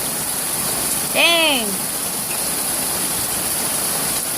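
Very hard rain pours down outdoors as a steady, loud broadband hiss throughout, with a person briefly exclaiming over it.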